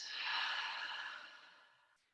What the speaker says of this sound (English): breathe out through the mouth, nice and long, slow exhale